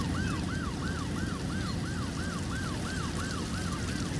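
An ambulance siren in a city-building video game sounds a fast, evenly repeating two-tone wail, faint and steady over a constant low background rumble.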